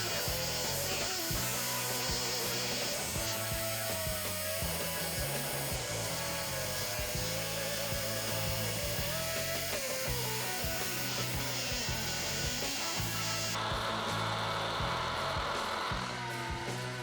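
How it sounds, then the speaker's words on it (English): A hammer drill grinds and hammers continuously into concrete, a loud rough drone with shifting pitch that changes character near the end. "if you're drilling this big into concrete with a hammer drill"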